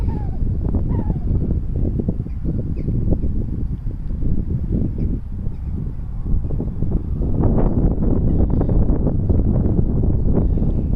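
Wind buffets the microphone of a OnePlus 7T phone while it records outdoors, a loud, continuous low rumble with gusty surges and bursts of crackle across the whole stretch.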